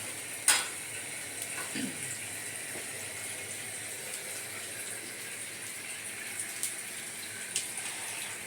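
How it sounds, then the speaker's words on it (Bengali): Fish fries in a pan in a home kitchen, a soft, continuous sizzle at low level with a few sharp clinks and stirring taps. "মানে মাছ ভাজবো।"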